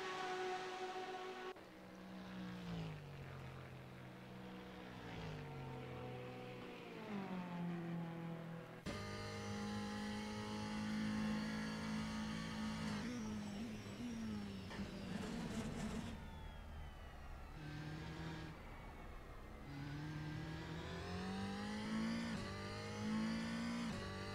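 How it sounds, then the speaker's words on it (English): Ferrari race car engines in a racing video game's braking zone at Spa Francorchamps, with loud engine whines dropping in pitch as they downshift, then rising again, several cars overlapping in close succession. "There is an absolutely horrible noise coming from these Ferraris down in the braking zone"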